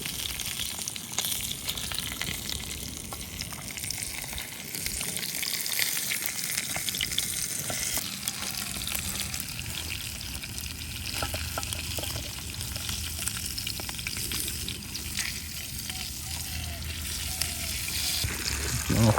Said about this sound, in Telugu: ఫ్రై చేద్దాం అనుకుంటే చేప కాస్త రోత అయిపోయింది.